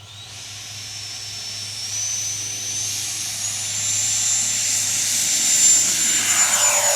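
Freewing Eurofighter Typhoon RC jet with an 8s 90mm electric ducted fan, flying outdoors: a steady high-pitched fan whine and airy rush that slowly rises in pitch and loudness as the model speeds past, alone without talk.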